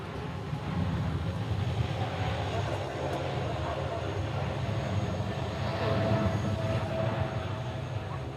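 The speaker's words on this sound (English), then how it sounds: "Oh, the tanker took off." A military aerial refueling tanker aircraft takes off at night, a steady loud low jet roar rising slightly toward the end with no pauses.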